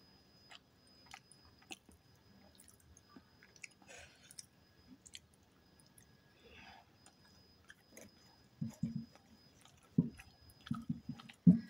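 Someone chewing a bite of aloo paratha with spicy curry, giving soft, close, squishy mastication sounds that grow louder and more frequent toward the end over a quiet background.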